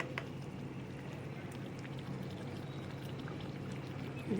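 Fried pabda fish pieces are placed into a simmering gravy, giving a soft, steady bubbling and sizzling that holds at an even, moderately quiet level without talk.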